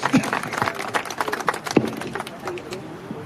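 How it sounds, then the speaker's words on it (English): Scattered clapping from a small audience, fairly close, with a few sharp claps standing out and tapering off. "Give the sister a round of applause."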